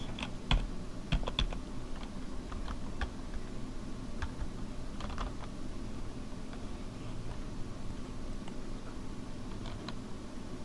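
Someone types on a computer keyboard: a run of irregular, close, crisp keystrokes, sometimes in quick bursts, over a faint steady background hiss.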